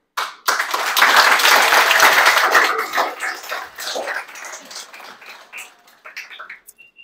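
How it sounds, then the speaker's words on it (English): An audience at a Q&A with Gale Anne Hurd breaks into a sudden burst of applause for the guest, loud at first and then thinning into scattered claps. "Please, a round of applause for our guest here."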